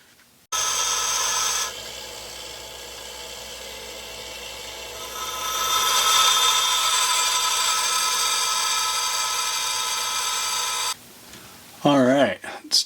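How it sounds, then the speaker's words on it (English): A grinder works on a Lisle tap socket in one long continuous whine and rasp that swells in the middle and cuts off abruptly near the end, followed by a short burst of a voice. "Go back to the grinder."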